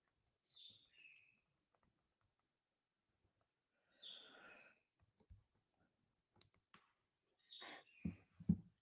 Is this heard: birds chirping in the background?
yes